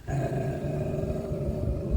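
Puppies growl in a close, continuous low rumble that holds steady for a couple of seconds with no voices.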